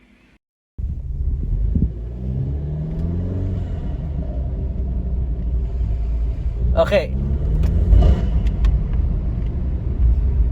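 An Alfa Romeo Giulia fitted with a BMS intake starts up and settles into a deep, loud engine rumble with a rising whistle of turbo spool, while a person talks briefly over it.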